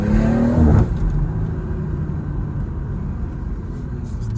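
A BMW 440i Gran Coupe xDrive rumbles loudly with a deep, steady engine drone, a short rising rev near the start settling into a sustained low growl, recorded close on a night drive in Baltimore.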